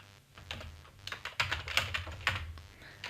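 Close typing on a computer keyboard, with quick, irregular clicking keystrokes and occasional firmer taps over a faint hum, and no voices.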